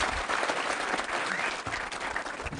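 A graduation audience at the Kenya Institute of Management ceremony applauds a female graduate, a dense, steady wash of many hands clapping at once, even and sustained throughout, with no speech on top.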